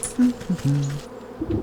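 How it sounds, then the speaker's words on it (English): Short, uneven bursts of low buzzing from bees at an apiary in the video game Wytchwood, close by and fairly quiet, with faint background noise. "That's the sound of bees."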